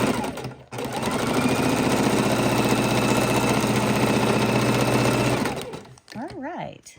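A sewing machine runs steadily for about five seconds stitching raw edge appliqué on fabric, a loud continuous mechanical whir that stops abruptly, followed by a brief rustle.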